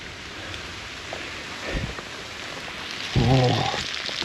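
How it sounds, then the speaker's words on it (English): Steady rain falls across a graveyard at night, a constant wash of drops hitting nearby surfaces, with a few brief knocks and a short burst of spoken voice near the end. "Oh, the rain."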